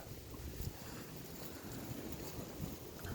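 Low, gusty wind buffets and rumbles steadily, fairly quiet, with occasional soft thumps against the microphone and no voices.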